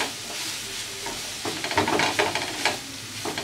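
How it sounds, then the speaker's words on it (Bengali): Finely grated carrot frying in ghee for carrot naru, with a steady sizzle under scraping stirs that grow louder and more frequent partway through. "গাজরটা দিয়ে আমি একটু ঘিয়ের মধ্যে ভেজে নেব"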